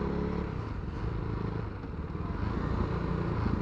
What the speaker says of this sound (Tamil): என்னையா காட்டுக்குள்ளேயெல்லாம் வண்டி ஓட்ட விட்றீங்க?